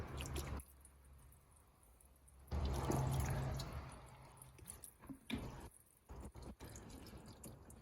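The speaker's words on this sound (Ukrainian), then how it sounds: "Давайте зміємо це все водою." Water runs and splashes over a car headlight being rinsed of lemon and baking soda, with a steady pour interrupted by brief pauses, then irregular wet splatters and drips toward the end.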